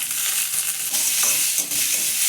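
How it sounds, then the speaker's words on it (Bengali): Chopped tomato frying in a pan with curry leaves and onion for a spicy chutney, a steady loud close sizzle with a few stirring scrapes partway through, no talking. "টমেটোটা দিয়ে দেবো"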